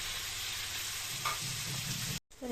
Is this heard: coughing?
no